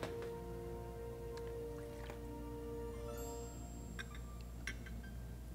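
Lime juice is poured for a rum-based Slurm cocktail, a soft, faint trickle with small drips and light glassy clinks, heard up close.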